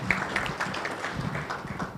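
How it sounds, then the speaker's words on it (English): Audience applause at an intergovernmental agriculture forum: steady, dense clapping from a crowd, loud and close, filling about two seconds without pause. "Let's give a clap."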